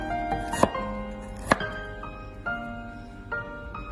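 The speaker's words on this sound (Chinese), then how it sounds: "将生姜切成薄片" A kitchen knife slices peeled ginger into thin slices on a cutting board, giving a few sharp, close chopping knocks spaced about a second apart over a quiet, faintly humming room.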